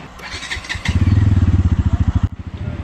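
A motorcycle engine starts up close by and idles with a steady low throbbing pulse for a couple of seconds before cutting off, on the way to a village temple fair.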